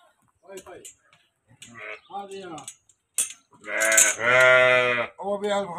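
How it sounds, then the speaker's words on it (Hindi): Goats bleating at a goat market in Madinah, with harmonic cries rising loud near the end among other animal calls, broken by gaps and mixed with nearby voices talking. "ये देखें जी, बैठे हुए हैं बकरे माशाल्लाह।"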